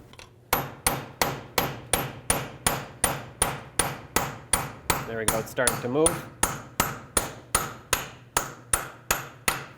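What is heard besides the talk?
hammer striking punch on axle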